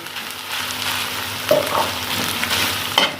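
Onions frying in a pan on the stove, a close, even sizzle with a couple of spoon clinks and stirring knocks, no speech.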